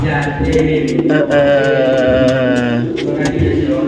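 A prized competition songbird from a Pamekasan team sings up close and loud, with rich warbling, rapid chirps and sustained melodic phrases over a continuous four-second stretch, backed by faint low coo-like tones.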